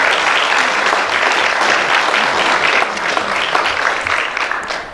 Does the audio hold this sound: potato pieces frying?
no